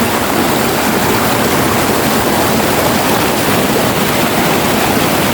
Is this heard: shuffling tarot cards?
no